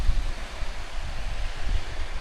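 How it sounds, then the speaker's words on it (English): A full-flowing waterfall on Kinder Scout moorland gives a steady, broadband rushing roar with heavy low-end rumble and wind buffeting at the microphone, continuous and fairly loud throughout without any speech. "show you this waterfall as it's in full flow"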